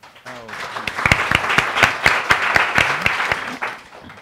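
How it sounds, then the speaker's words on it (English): Applause from an event audience, dense clapping with a few sharp nearby claps standing out, while a voice speaks briefly at the start and the clapping fades out at the end. "A warm applause"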